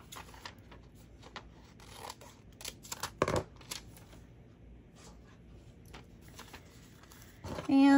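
Scissors snip through Silhouette vinyl for a gingerbread Christmas sign in a series of short, close, crisp cuts, with faint rustling between them and a brief louder sound at the end.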